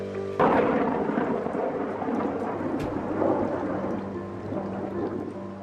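Steady heavy rain pours down in a storm with rolling thunder, soaking a wet Roman bath building under construction; a loud onset is followed by a continuous broadband wash of rainfall and low rumbles throughout.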